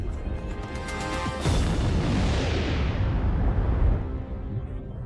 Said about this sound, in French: une immense déflagration qui illumine un bref instant toute la galaxie